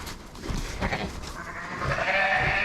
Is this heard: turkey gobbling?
no